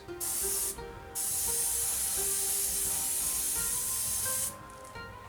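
An airbrush sprays paint onto the wing of a 1/48 scale Fujimi Mitsubishi A6M2 model in steady close hissing bursts, with a brief pause near the start and the spray cutting off toward the end.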